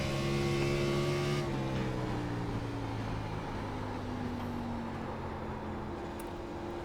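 NASCAR Xfinity race car in the iRacing sim at New Hampshire, its engine a steady loud drone with rising and falling harmonic pitch through a lap, with no shifting and no talk.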